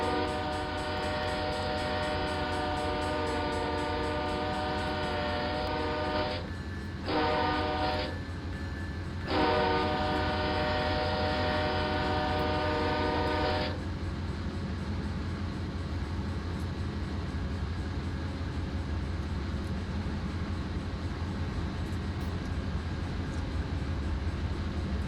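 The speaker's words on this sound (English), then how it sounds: "I want to get a run by of this locomotive here real quick." A CSX veterans locomotive in Train Simulator 2020 sounds its horn in long, loud blasts with two brief breaks, over a steady rail rumble that carries on after the horn stops.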